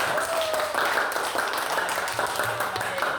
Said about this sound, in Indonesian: Oke, tepuk tangan dulu untuk kelompok D.